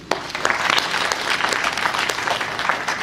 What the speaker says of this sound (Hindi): एक बार फिर से तालियां लगा दीजिए।